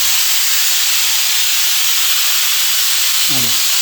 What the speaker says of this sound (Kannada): ಎರಡನೇ ವಿಸಿಲ್ ಆಯಿತು